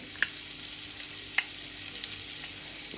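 Millet roasting in a pan along with carrot, giving a steady dry hiss with a couple of sharp spoon clinks and light scraping stirs up close.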